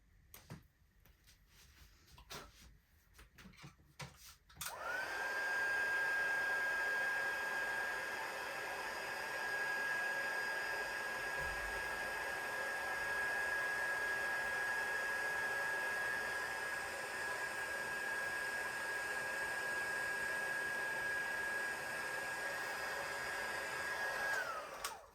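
A heat gun melts gold embossing powder on a crafting piece, roaring steadily with a constant high whine for about twenty seconds after a few soft handling clicks. It cuts off at the end.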